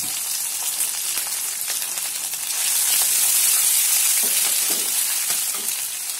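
Chopped chillies and grated ginger fry in hot oil that already holds mustard seeds and cumin. The close, continuous sizzle grows louder and fuller partway through, with faint stirring ticks.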